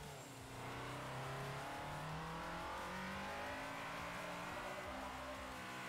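Honda Civic engine driving in Forza Motorsport 4, a steady close engine drone with shifting revs and tire noise running throughout, no talking.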